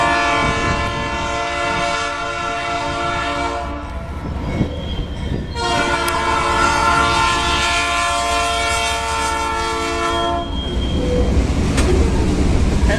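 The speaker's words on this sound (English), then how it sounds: "Canadian National train in Plant City, Florida. Standard cab Dash 8." A Canadian National freight train led by a standard-cab Dash 8 locomotive passes through Plant City, Florida, its horn blaring in long, loud, sustained blasts over the rumble of the rolling cars.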